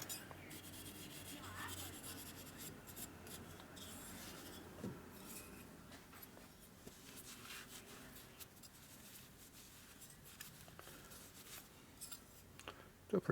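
A dirty chrome 1947–54 panhead tombstone taillight being scrubbed by hand, making a faint, continuous rasping rub with small scraping accents, close by and quiet throughout.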